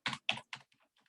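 Typing on a computer keyboard, three distinct close keystroke clusters followed by a few fainter, lighter taps trailing off, with no voices.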